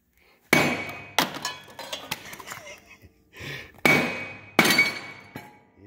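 Metal tapping on a zero turn mower's fabricated deck to loosen a spindle, with a few sharp ringing strikes, two strong ones later on, and smaller clinks and handling noise in between.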